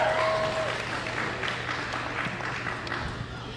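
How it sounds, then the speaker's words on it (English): A large crowd at a UKC Premier dog show roars and applauds steadily as a dog enters the ring, a dense, loud wash of clapping and cheering throughout. "a big roar of the crowd for this dog coming in"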